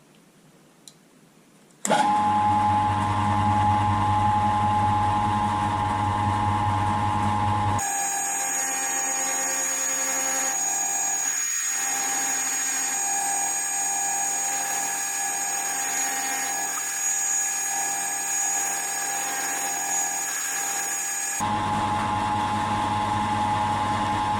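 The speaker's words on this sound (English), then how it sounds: "I'm just going to chamfer the ends quickly" A machine tool chamfering the ends of a metal piece runs with a steady high whine and hum, shifting in pitch partway through as metal is cut, continuous and fairly loud.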